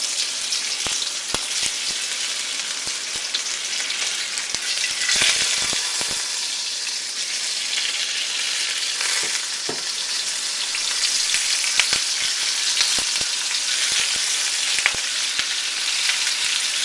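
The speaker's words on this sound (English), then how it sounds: "we're going to lay the tofu in there, pork side facing down" Pork-stuffed tofu frying in a few tablespoons of oil in a wok gives a loud, continuous, close hiss and crackle with scattered sharp pops, heard alone without talk.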